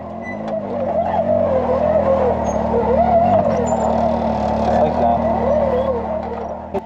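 A long-wheelbase Can-Am UTV grinds through rocky offroad terrain during a hard desert race, its engine loud and revving with wavering pitch, close and continuous for several seconds.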